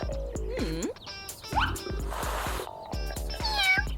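A kitten gives several short, high meows in a row, close and clear, mixed with light rustling and a few clicks.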